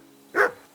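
A single sharp dog bark rings out in the video game Kingdom Come Deliverance II, close and fairly loud against a quiet background.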